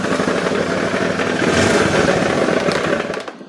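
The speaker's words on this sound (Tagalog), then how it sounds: "Umandar na mga bro, kaso may nalagatok sa loob." Carbureted Honda Beat scooter engine running with an internal knocking, giving a loud, close, rough rattling drone that holds steady before cutting out near the end.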